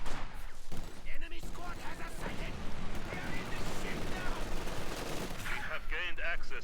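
MP40 submachine gun fire in a WWII strategy video game, rapid bursts of automatic shots mixed with other battle gunfire and a few explosions, loud and continuous, with a commentator talking over it.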